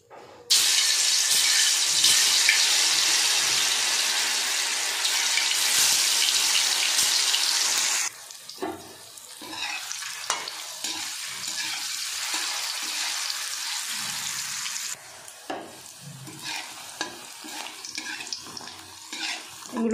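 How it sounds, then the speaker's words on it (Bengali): Soya bean bori sizzle as they fry in a little hot oil, a loud, steady crackling hiss that cuts off abruptly, followed by quieter intermittent clinks and kitchen handling sounds. "তেল গরম হয়ে গেছে, এবার আমি এগুলো একটা একটা করে ভেজে নেব।"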